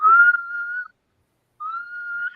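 A man whistles two clear, sustained notes at a steady pitch, with a short silent gap between them.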